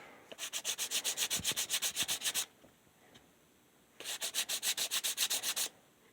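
Quick back-and-forth strokes of hand sanding, close and steady, stopping for a moment of quiet before another burst of even, raspy rubbing.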